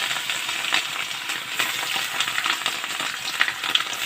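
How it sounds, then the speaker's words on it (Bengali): Cut rohu fish pieces frying in a pan of oil, a continuous crackling sizzle with small pops and spatters, close and steady with no voices. "এখন আমি এখানে মাছটা ভেজে নেব"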